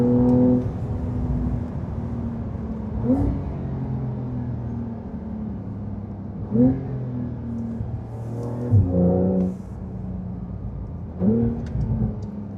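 A Porsche 911 Carrera of the 992 generation is on the move, its engine droning steadily inside the cabin with several rises in pitch and brief surges as it picks up speed.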